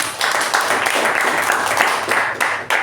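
Applause at a Toastmasters club meeting after a speaker's delivery, a steady, moderately loud patter of clapping from a small audience lasting a few seconds.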